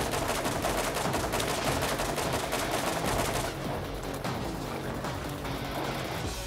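Rapid bursts of video game gunfire from Borderlands rattle densely for several seconds, then ease into a softer crackling volley, loud and without talk.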